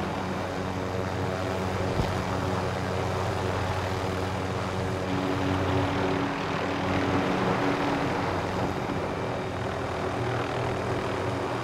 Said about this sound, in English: There is an enemy helicopter way out there.